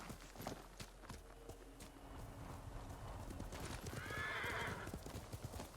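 Hooves clip-clop along as a horse moves at pace in the Ghost of Tsushima video game, with a clear neigh rising near the end over a steady background.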